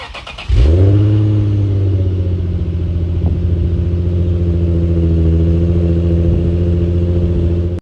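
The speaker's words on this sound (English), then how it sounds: "This is a cold startup on a 2008 Infiniti G35 with a Stillen Cat-back exhaust." A 2008 Infiniti G35 fitted with a Stillen cat-back exhaust fires up from cold, a sharp starter crank giving way to a loud, deep, steady idle that holds close and even with a slight rise in revs.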